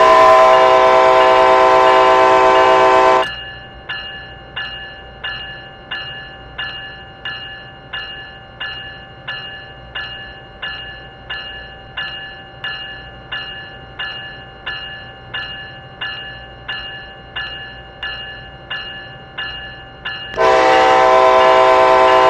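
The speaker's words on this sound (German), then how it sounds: "Mit zwei kurzen Pfeiftönen informieren Sie Menschen um Sie herum," Locomotive horn in the Train Sim World game sounds two loud, sustained blasts, one at the start and one at the end, separated by a long stretch of quiet, regular mechanical ticking.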